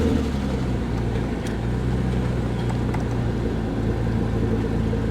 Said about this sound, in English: Sounds like the exhaust might be a little bit modified. Yeah, it's got a nice rumble to it.